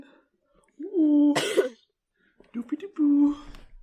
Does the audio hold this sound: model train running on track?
no